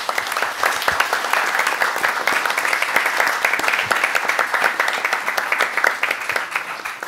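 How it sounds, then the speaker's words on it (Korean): A seminar audience on defense cooperation applauds together at the close, a loud, continuous burst of clapping that holds steady and thins slightly at the end. "다 같이 박수를 치면서 오늘 세미나를 마무리하면 어떻겠습니까?"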